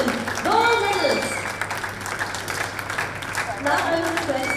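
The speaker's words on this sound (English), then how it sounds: "please put your hands together for a round of applause for the 50-meter rifle three positions women gold medalists" Applause at an ISSF Shooting World Cup medal ceremony in Bhopal, a crowd clapping steadily for the women's 50m rifle three positions gold medalists while a voice talks over it.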